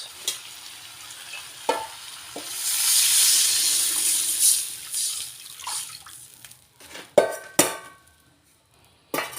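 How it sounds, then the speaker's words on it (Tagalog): Rice-washing water is poured into a pot while cooking lomi with pansit bato noodles, a splashing sizzle that rises for a few seconds then fades, followed by several sharp clinks and knocks of utensils. "lagay ko na yung pinaghugasan ng bigas"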